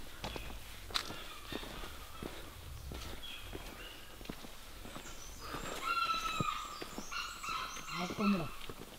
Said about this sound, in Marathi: बापरे, हा कोंबडा आहे काय? केवढा मोठा आवाज आहे, घाबरलो मी.